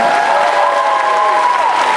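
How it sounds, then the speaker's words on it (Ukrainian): Sustained, steady applause from an audience at a symposium in Kyiv, a dense wash of clapping with some crowd noise mixed in, holding at an even loud level throughout. "Итак, друзья, ваши бурные овации. Больше, больше аплодисментов."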